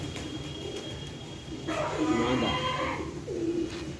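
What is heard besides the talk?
pigeons cooing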